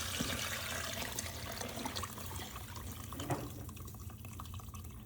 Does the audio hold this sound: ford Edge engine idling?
no